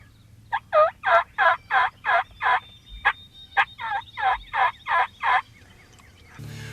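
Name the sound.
wild turkeys, young males (jakes), gobbling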